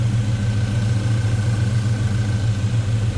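A 1972 Chevrolet Chevelle convertible engine idling, a steady low rumble heard close up and even throughout.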